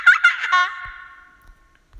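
High-pitched GarageBand stock giggle sample: a few quick, bright giggle bursts at the start, then a thin fading tone trailing off into near silence.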